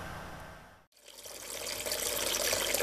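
Running water from a decorative garden fountain splashes and trickles steadily, moderately faint, after a brief silence, with a soft continuous wash and no talking.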